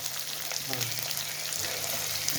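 Chopped onions sauté in hot oil for a chicken gravy, making a steady mid-level sizzle with soft stirring clatter and a low hum running beneath.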